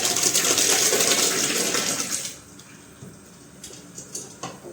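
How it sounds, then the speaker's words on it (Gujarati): Water is poured from close by into a pot of cooked vegetable gravy. A loud, steady splashing pour lasts about two seconds, then stops, leaving quiet room sounds with a few faint clicks. "તો ચાલો ફટાફટ પાણી નાખી દઈએ આપણે"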